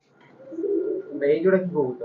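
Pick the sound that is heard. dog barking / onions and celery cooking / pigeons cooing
pigeons cooing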